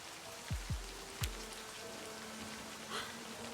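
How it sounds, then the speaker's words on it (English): Rain falling in the Livber: Smoke and Mirrors video game, a few soft, low drop-like thuds in quick succession over a faint steady background hiss, with a light patter near the end. "The raindrops fall on the paper, landing with soft patters."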